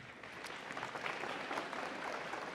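An audience claps at a school ceremony in steady, dense applause of many hands, faint and distant, with no talk over it.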